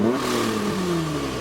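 A supercharged Nissan Maxima sedan's engine revs briefly up close, a rising and falling mechanical note with faint supercharger whine and no one speaking.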